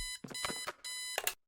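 An alarm clock in the adventure game Kathy Rain rings in short bursts of bright, harmonic electronic beeping, three clipped pulses close and loud with brief gaps, no voices.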